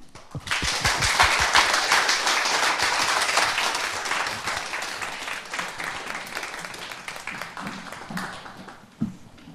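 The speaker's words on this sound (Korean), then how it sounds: "자, 박수로 맞아보겠습니다." A studio audience applauds steadily to welcome a guest speaker onto a Korean television talk show about the national pension, sustained clapping that slowly tapers with a brief loud clap near the end.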